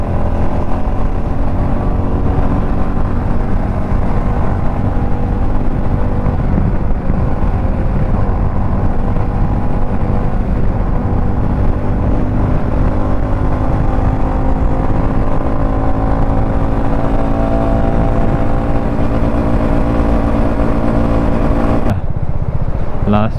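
A motorcycle speeds up along the wide, smooth JNPT road, its engine droning loud and steady close by, mixed with wind rush. The drone cuts off abruptly near the end.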